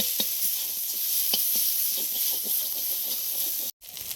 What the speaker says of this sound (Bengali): তারপর রসুন, তারপর আদা দিয়ে একটু নাড়ানাড়ি করতে হবে।